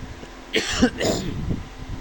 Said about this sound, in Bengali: আমার একটু ঠান্ডা লাগছে, এজন্য কাশি হচ্ছে